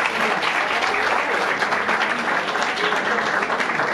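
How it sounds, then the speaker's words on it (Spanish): Applause for a performer at a bar show, a dense burst of crowd clapping that holds steady throughout, with faint voices mixed underneath. "un aplauso para Carlitos"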